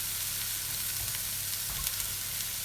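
Garlic added to onions frying in a pan for moussaka, a steady close sizzle with faint stirring, and no talk.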